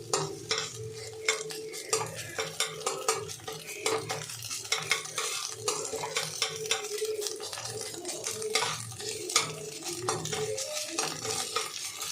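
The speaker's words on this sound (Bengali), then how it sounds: "পেঁয়াজটা ভেজে নিচ্ছি ভাজা হয়ে যাক" Onion and potato fry in a pan for chowmein, with a steady close sizzle under frequent sharp scrapes and clinks of a utensil stirring against the pan.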